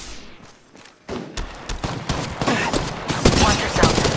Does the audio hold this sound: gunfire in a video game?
yes